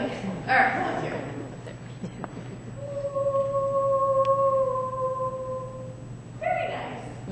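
An audience volunteer's voice imitates an alpha wolf howl as a thin, sustained tone in the middle of the clip, fairly faint against crowd murmur and room noise in a lecture hall.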